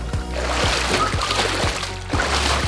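Water in a Hydropool swim spa sloshes and splashes in a repeated rhythm, roughly every half second, as someone presses dumbbells through it during a cardio workout, loud and close with a steady churning wash beneath.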